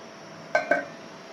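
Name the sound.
stirring chicken curry with jackfruit seeds in a pot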